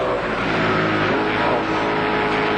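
Dick Johnson team touring race cars come downhill at Bathurst in a 1995 ATCC race, their engines a loud, steady roar heard close and without pause.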